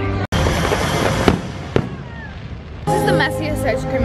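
Fireworks show at Disney World: a sharp crack, then loud crackling bursts and pops overhead, a high whistling streak, and a fresh dense volley near the end.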